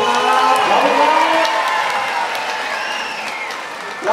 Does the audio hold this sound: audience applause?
yes